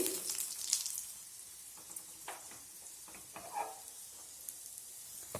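Spices tempering in hot oil for Andhra-style brinjal bajji curry, a soft steady sizzle with faint crackles and a few small pops, close and fairly quiet, no talking.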